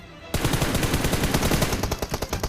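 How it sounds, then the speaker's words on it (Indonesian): Rapid automatic gunfire in PUBG cuts in sharply after a brief quiet moment and keeps up as a loud, dense, continuous burst of close shots aimed at a bot. "Nah, dia nembak bot tuh"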